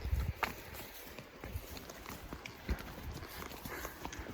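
Horses climbing a mountainside outdoors make soft, irregular hoof thuds and scuffs, faint and steady throughout with no talking.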